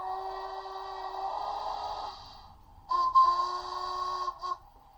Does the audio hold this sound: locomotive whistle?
yes